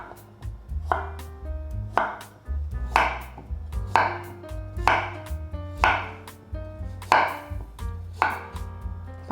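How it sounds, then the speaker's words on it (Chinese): A knife chops a peeled carrot into small pieces on a cutting board, about eight crisp, evenly spaced cuts with no talking. "把红萝卜切成小块状。"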